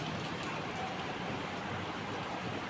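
Rain falls in a steady, dense, even patter with a soft hiss throughout, fairly quiet and with no talking.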